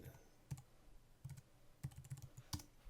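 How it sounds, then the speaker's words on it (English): Password being typed on a computer keyboard: sparse, quiet key clicks in small irregular clusters, close by in a quiet room, with no talk. "I'm going to type in my password."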